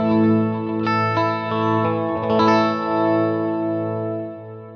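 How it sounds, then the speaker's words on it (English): An electric guitar tone on a Fractal FM9 with a slow tremolo effect sounds a few sustained chords whose volume swells and dips in a gentle, slow pulse, clean and alone. "So I've set up a Tremolo here on this tone."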